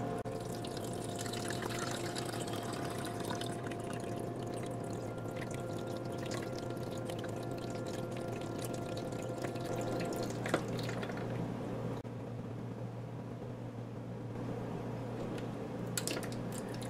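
Water trickling and dripping inside a countertop ice maker as it takes in water, a quiet continuous flow over a steady mechanical hum, with a few faint clicks.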